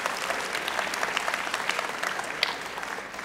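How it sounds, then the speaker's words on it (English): A conference audience claps together in a lively, sustained round of applause, moderately distant and steady throughout with no speech over it. "give yourselves a round of applause."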